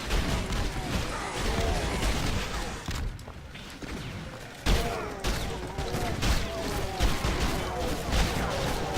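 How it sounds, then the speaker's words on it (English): A faulty rocket launcher fires in the Doom mod Reelism, a loud, dense barrage of blasts and crashing explosions with barely a break, mixed with chaotic game noise. "Forgot this was a rather faulty rocket launcher."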